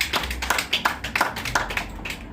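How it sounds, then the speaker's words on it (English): An audience at a community center gathering claps, a crisp, uneven run of individual hand claps close by, with no talking. "I want you to take a minute to give yourselves a round of applause"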